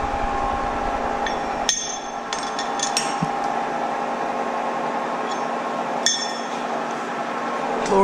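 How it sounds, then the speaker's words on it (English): Metal parts clink and tap sharply a few times at scattered moments as a drill chuck is fitted back into a vertical milling machine, over a steady machine hum in a workshop. "We'll go ahead and put the drill chuck back in."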